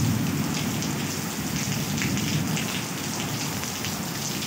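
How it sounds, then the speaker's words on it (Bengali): Heavy rain pours down steadily onto a waterlogged street, a dense, unbroken roar of drops hitting surfaces, loud and close throughout with no voices. "মনে হচ্ছে না এখন কমবে, কারণ আস্তে আস্তে আরো জোরে হচ্ছে বৃষ্টিটা"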